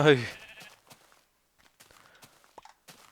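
Sheep bleating in the Minecraft video game as wolves attack them, a loud bleat at the start followed by fainter scattered bleats and footsteps, with a voice talking over parts of it.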